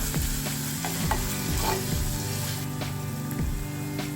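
Shredded cabbage with salt and crushed chilli cooking in a hot pan, a steady close sizzle with scraping stirs and clinks of a spoon against the pan throughout, and no voices.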